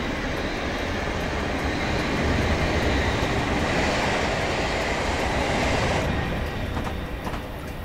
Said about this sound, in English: And this train is ready to depart.